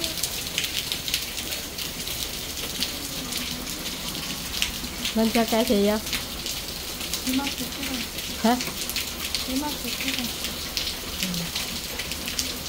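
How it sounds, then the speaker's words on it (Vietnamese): Heavy rain pours down steadily in a dense, hissing roar, while a couple of people exchange a few short remarks underneath. "Mưa quá trời mưa luôn"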